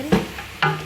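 Two quick stirring scrapes of lamb pieces with spices and other ingredients in a pot for machboos, each a short sizzling swish close by, with a soft hiss between.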